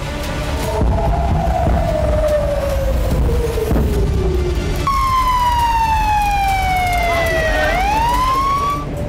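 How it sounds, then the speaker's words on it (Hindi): Wailing emergency sirens sound in Israel during attacks, loud and continuous. A slow descending wail gives way to a higher sweeping siren that dips and rises again, over steady street and traffic rumble. "जिससे इसराइल में लगातार सायरन बज रहा है।"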